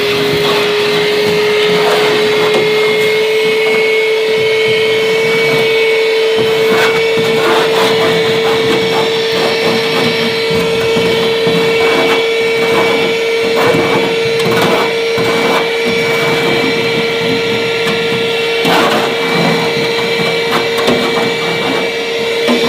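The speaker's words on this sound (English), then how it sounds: "what I use to clean with is this little vacuum by Works. Takes a 20-volt battery on the back." A Works 20-volt cordless vacuum runs at a steady high whine close by while cleaning out a Z Grills pellet smoker, with scattered rattles and clatters of debris being sucked up throughout.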